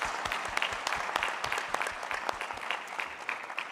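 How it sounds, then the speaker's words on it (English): Conference audience applauding three panelists at a summit session: scattered, moderately faint clapping from a modest crowd, individual claps audible within a steady patter. "please give them a big round of applause"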